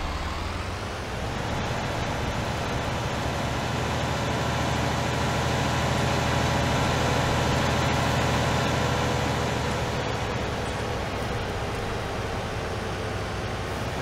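Tractor engine in Farming Simulator 19 idling at a steady, continuous low rumble, held level and alone throughout with no talk over it.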